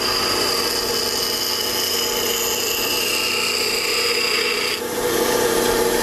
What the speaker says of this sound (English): what I'm trying to do is finish up again with the stone running parallel to the edge of